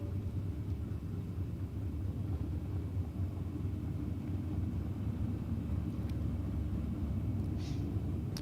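A drag car with a Toyota 2J engine in a Holden Commodore at Sydney Dragway gives a steady, heavy low rumble, heard from a distance at a drag strip, with no talk over it.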